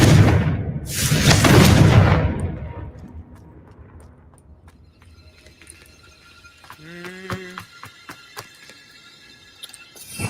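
A Confringo blasting spell in the Hogwarts Legacy video game goes off as a loud, deep booming explosion up front, followed by quieter rumbling and scattered crackling effects that fade out.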